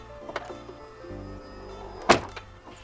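A Tesla Model X door, one of its Falcon Wing doors, closes with a low motor hum and then a single sharp thunk near the microphone, followed by quieter settling clicks, with no talk.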